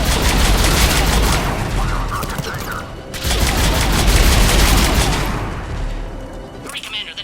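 A Mass Effect 3 firefight brings rapid, sustained bursts of gunfire, loud and close, with a brief lull midway before the shooting resumes; voices shout over the shots.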